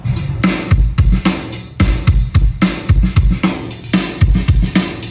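Loud music through a modified car's professional aftermarket audio system, with punchy bass beats hitting in a steady rhythm over bright highs, no talking.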